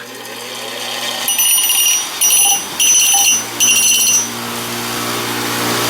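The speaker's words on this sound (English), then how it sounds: "we're just going to take the burrs off" A hot coin ring, held in pliers, being deburred with a file, several short bursts of harsh high-pitched scraping against a steady background hum, close and fairly loud.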